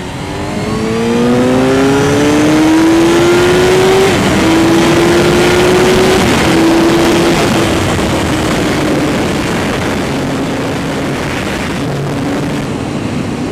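A Suzuki GSX-R 750 sport motorcycle accelerating hard on the road, its engine note loud and close as it climbs through the gears with clear shifts, under steady wind roar and with no one speaking.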